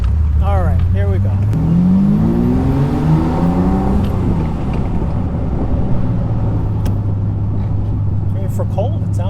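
A Ferrari 275 GTS engine, still cold, revs and accelerates with rising, rasping pitch sweeps, then settles into a steady, fairly loud running note heard close by.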